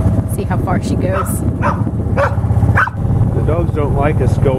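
Farm dogs bark repeatedly in short yips and woofs outdoors on a frigid winter farm, fairly close, mixed with people talking and a steady low background rumble.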